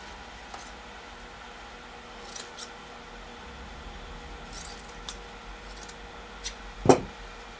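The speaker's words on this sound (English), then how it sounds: "cut that down" Scissors cut fabric while a mini jabot is sewn, giving a quiet room tone and then a single crisp, close snip near the end.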